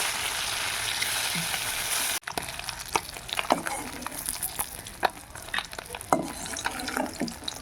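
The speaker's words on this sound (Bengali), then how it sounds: "একে একে মাছগুলোকে ভাজবো" Local fish sizzling and spitting in hot oil, a steady frying hiss with frequent crackles and pops, close by and fairly loud.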